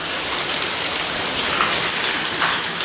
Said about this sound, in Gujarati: એટલો વરસાદ આવ્યો